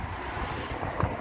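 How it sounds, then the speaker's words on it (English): A steady, broadband roar of highway traffic, a continuous wash of road and wind noise with no distinct events. "sorry for the noise, I'm on the highway"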